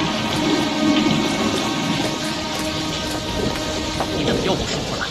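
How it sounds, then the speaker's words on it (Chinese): Heavy rain pours down without pause while low thunder rumbles underneath, a dense, loud, steady wash of storm noise with no voices. "下这么大雨你没看见？"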